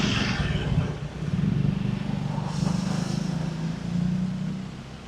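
A BMW car passes by on a busy early-morning Bangkok street, its steady engine rumble swelling and easing over constant traffic noise, with no one speaking.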